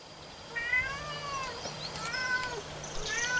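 Cats meow repeatedly in a video game, several drawn-out rising and falling cries over a low steady background hum, with no speech.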